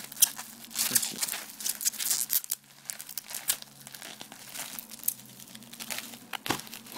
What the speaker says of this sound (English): let's just finish pulling this little piece of tape off